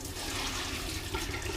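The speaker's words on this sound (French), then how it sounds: "je mets de l'eau chaude" Hot water poured steadily into a kitchen bowl to soak ingredients for a Mauritian dish, a continuous close rushing splash with no talk.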